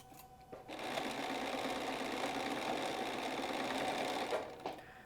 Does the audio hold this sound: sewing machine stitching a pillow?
yes